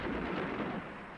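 An artillery gun fires point-blank in wartime footage, a single broad, heavy blast that rolls and decays over about a second, loud and without speech.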